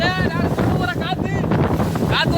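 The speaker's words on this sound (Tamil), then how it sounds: "காத்து பாத்தீரே இதே நாங்க கொண்டு போற காத்து" Strong sea wind buffets a fishing boat, a loud, continuous rushing roar with gusty swells, while someone speaks over it throughout.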